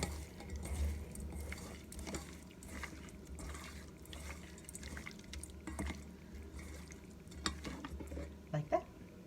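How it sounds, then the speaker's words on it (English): Hands squelch and stir scallops and shrimps through a ginger marinade in a bowl, a soft, wet, continuous churning with faint drips, heard close but quietly. "Now you're going to want to get in there with your hands and mix it up"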